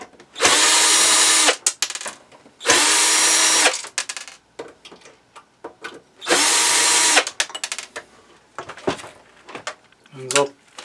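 A power drill backs screws out of the rear panel of an object in a workshop, running in three loud, sustained whirring bursts with someone talking in the pauses between them.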